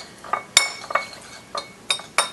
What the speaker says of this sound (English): we'll just stir it up